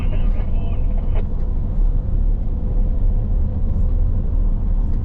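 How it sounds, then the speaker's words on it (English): A Baht bus carries passengers from Pattaya station to Samae Beach, its engine giving a loud, steady, close rumble with road noise for the whole ride, while a voice briefly speaks over it. "I'm hopping on a Baht bus to Samae Beach."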